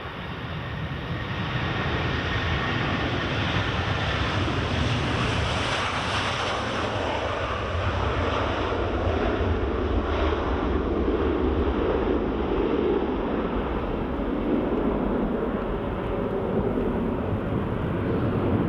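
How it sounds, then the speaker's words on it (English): A United airliner takes off at Edinburgh Airport, a loud sustained jet roar that holds steady and swells slightly before easing, with wind noise buffeting the microphone throughout. "United, clear for takeoff."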